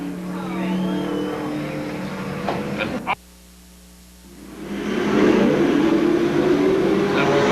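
Stock cars at Seekonk Speedway roar back to racing speed after the green flag, the engine noise swelling loudly after a brief quiet gap, with faint voices early on.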